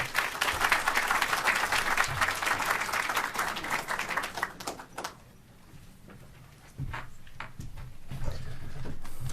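A crowd at an awards evening applauds loudly, the dense clapping swelling and then thinning out after about five seconds, leaving scattered claps and a few faint room sounds.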